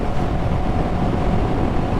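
Motorcycle riding in wind, a dense, loud low rumble of engine and wind buffeting blended together, steady throughout with no distinct change.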